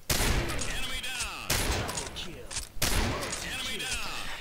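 Three loud M24A3 Woodland sniper rifle shots ring out in the Combat Arms video game, spaced about a second and a half apart, each a sharp crack with a rolling echo tail and busy game noise between.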